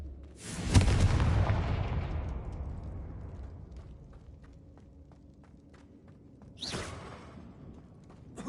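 A Confringo fire spell in Hogwarts Legacy bursts with a sharp, loud explosive boom that rumbles and fades over a few seconds, followed later by a second, quieter burst over faint game ambience.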